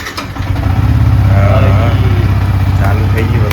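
A motorcycle in good condition catches on its electric self-starter and settles into a loud, close, throbbing idle after a brief starting whirr.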